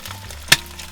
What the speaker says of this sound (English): There's so much oil, it's just spitting everywhere